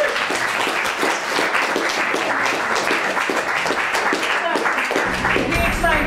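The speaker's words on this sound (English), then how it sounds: "Okay, huge round of applause." Sustained applause from a large audience at a Theosophical Society discussion in Chester, dense and steady clapping throughout, fairly loud and continuous.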